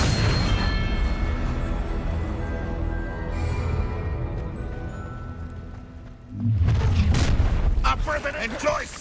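Confringo spell explosion in the Hogwarts Legacy video game, a burst of booming rumble after a sustained roar of game sound, with a spoken voice briefly over it.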